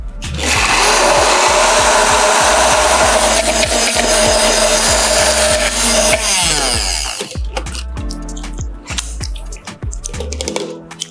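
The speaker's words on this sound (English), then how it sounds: "And now we just blitz this up so it's smooth and creamy, just like you." A blender blitzes lime aioli with lime juice, a loud close whirring roar that runs steadily for several seconds, then the motor winds down and stops, leaving scattered clatter.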